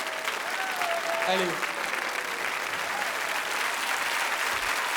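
A studio audience at a French televised children's talent show applauds loudly and steadily throughout, with a voice speaking over the clapping.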